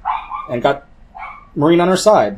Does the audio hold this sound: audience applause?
no